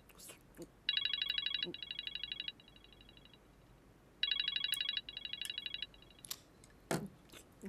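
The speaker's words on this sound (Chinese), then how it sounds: "帅哥哥，你为什么不接电话啊？" A telephone rings indoors in two bursts of rapid electronic trilling, each lasting about a second and a half, with quiet clicks and a brief voice between rings.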